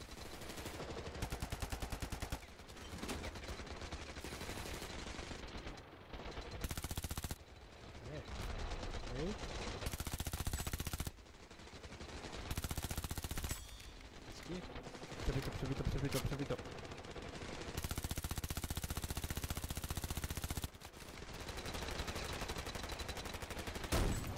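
A .50 caliber machine gun fires in the Ravenfield video game, loud sustained bursts separated by brief pauses, with other gunfire and game noise around it.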